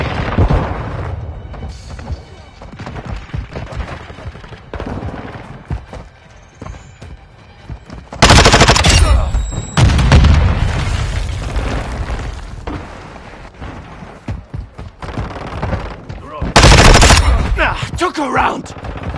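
Grenade blasts and bursts of gunfire going off in a firefight, two loud booming explosions standing out over scattered rapid shots, with voices shouting now and then.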